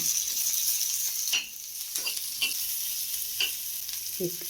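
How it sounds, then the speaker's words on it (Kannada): Chopped onion frying in a couple of spoons of oil on a stove, for village-style cucumber sambar: soft steady sizzle broken by several distinct spatula scrapes at irregular intervals, close up, no speech. "ಈರುಳ್ಳಿ ಇಟ್ಕೊಂಡಿದ್ನಲ್ಲ ಅದನ್ನು ಕಟ್ ಮಾಡಿ ಹುರಿತಾ ಇದ್ದೀನಿ"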